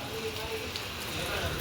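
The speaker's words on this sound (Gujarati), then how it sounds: "અમારા ગામમાં તો ધીમો ધીમો ચાલુ થયો છે" Light rain falling steadily in a village, a soft, even patter close by.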